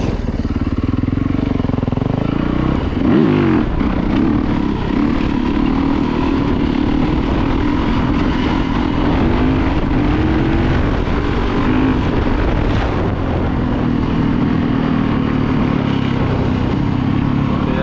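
A Yamaha YZ450FX dirt bike engine revs hard and steadily as the rider pulls wheelies, a loud continuous drone rising and falling in pitch, with strong wind buffeting throughout.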